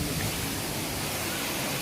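Waterfall at Lhong in Aceh Besar, a steady broadband roar of falling water filling the scene evenly and loudly without a break, with no voices heard.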